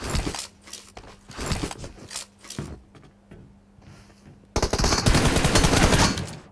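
Automatic gunfire from PUBG Mobile, several loud rapid bursts of shots, a quieter pause with faint game ambience, then a sustained dense volley of fire toward the end, no talk.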